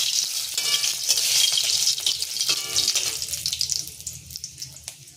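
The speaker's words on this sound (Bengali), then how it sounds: "তেল গরম হয়ে গেছে, দিয়ে দিলাম শুকনো লঙ্কা" Dried red chillies dropped into hot cooking oil for a Bengali lentil dish, giving a loud, dense hiss and crackle that stays strong at first, then thins into fainter spitting pops, with no voices.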